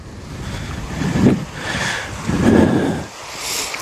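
Waves at the water's edge on Glass Beach in Napa, California, where old pilings and timbers stand, surging in two rolling washes amid steady wind noise, close and fairly loud.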